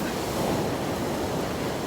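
Warm, salty ocean surf washing steadily, a dense continuous roar of breaking water with some wind buffeting the microphone, no voices.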